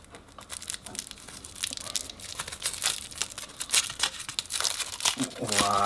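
Aluminium foil being peeled and crinkled off a small chocolate Easter lamb, with dense crackling and tearing bursts running throughout, up close and fairly loud.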